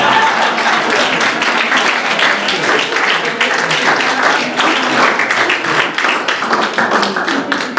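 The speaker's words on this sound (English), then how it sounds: "Maybe one more round of applause" An audience at a primary-care event gives a round of applause, dense steady clapping from many hands held at an even loudness for several seconds.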